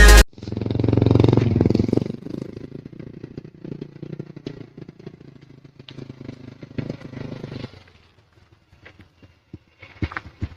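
A modified Vega R touring motorcycle engine idles nearby with a low, uneven putter that fades down, followed by scattered clicks and clatter.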